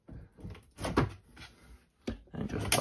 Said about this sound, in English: To put it back, we're gonna slide this in